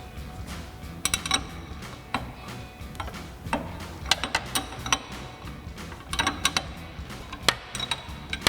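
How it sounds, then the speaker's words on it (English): A 17 mm wrench ratcheting a nut off a shock stud during a suspension lift install, giving a steady run of close, crisp clicks in uneven bursts. "we're gonna use our 17 mil wrench to go ahead and run our nut off"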